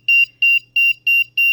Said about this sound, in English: The active buzzer is playing the sound.